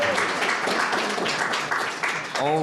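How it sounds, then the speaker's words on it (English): An audience at a poetry reading applauds in a dense, continuous wash of clapping at close range, with a voice breaking in briefly at the end. "can we give another round of applause?"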